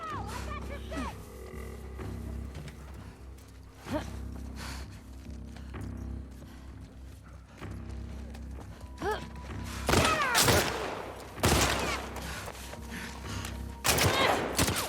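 Gunfire in the video game The Last of Us Part II, several loud sharp bursts from about ten seconds on, following quieter game ambience and thumps.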